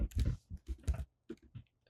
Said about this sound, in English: Let's type the word Freebirds in all capitals